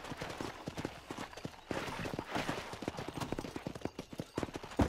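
Steady clip-clop of horse hooves at a trotting rhythm in the video game Red Dead Redemption, during a cattle-herding mission, fairly close, with occasional louder thumps and a faint voice now and then.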